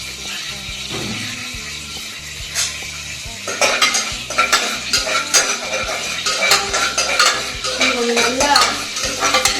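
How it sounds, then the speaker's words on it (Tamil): Ingredients for peas pulao fry and get stirred in a pan, with a steady sizzle under clattering spoon-on-pan scrapes that grow busier and louder after the first few seconds, close up and mostly without talk. "அதுவும் ஃப்ரை ஆகிட்டு பாருங்க"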